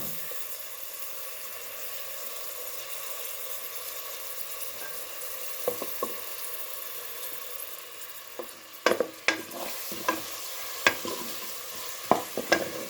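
Two medium onions frying in two to three tablespoons of oil over full flame, a constant close sizzle with scattered sharp spoon-stirring clacks growing more frequent in the second half, no talking.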